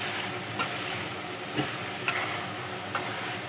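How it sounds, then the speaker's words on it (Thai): Eel frying in a pan makes a steady, close hiss of hot oil, broken by a few sharp pops and spatters spaced out over a few seconds, with no talking. "เราจะ ทอดไปเรื่อยกันนะครับให้มันสุก"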